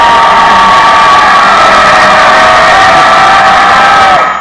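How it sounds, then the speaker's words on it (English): A sold-out hockey arena crowd gives its champions a standing ovation, a loud, sustained roar of cheering and whooping that fills the space without a break and only fades at the very end. "the sold-out crowd here at the JLC gave their OHL champions a standing ovation"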